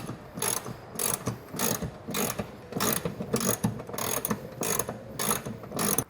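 A ratchet wrench loosens a 15 mm bumper bolt on a 2022 Chevrolet Silverado truck, clicking in close, rhythmic bursts of repeated strokes with brief pauses between them.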